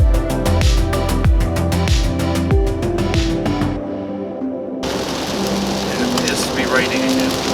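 Steady hiss of heavy rain, with a deep rhythmic rumble and thumping in the first half that drops away, leaving dense rainfall.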